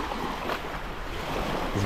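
Sea waves washing onto a beach in Greece, heard as a steady, close wash of surf with a soft whooshing texture and no voices, holding roughly even in loudness throughout.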